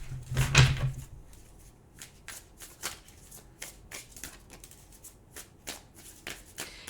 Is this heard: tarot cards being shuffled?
yes